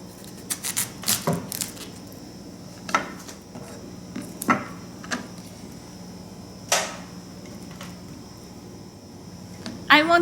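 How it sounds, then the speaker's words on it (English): A kitchen knife cutting into half a cauliflower on a board, with scattered crisp cuts and thuds, a quick cluster early on and then sparser single strokes, fairly close, a soft hum behind. "I want to cut all these sides."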